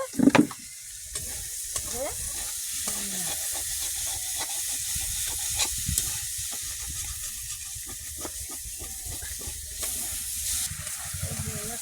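Beans frying in a pan, a continuous hissing sizzle with intermittent spatula scrapes as they are stirred, a louder clatter at the very start.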